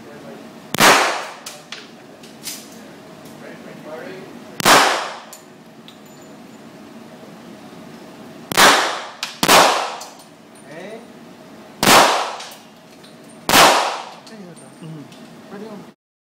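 Six sharp, loud gunshots at uneven intervals from 1191 and M16000 guns on a shooting range, each a sudden broadband crack with a short decay, over a low steady background.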